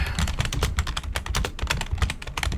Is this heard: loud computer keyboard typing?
yes